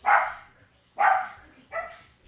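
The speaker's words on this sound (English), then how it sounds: "now we got dogs barking" Dogs bark at a new arrival: three loud, sharp barks spaced about a second apart, the last one shorter and weaker, with no talking.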